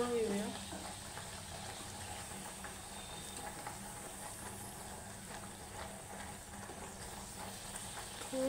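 Rolled puris frying in hot oil for puri bhaji, a steady soft sizzle and bubbling that runs through the whole stretch at low, even level with no talk.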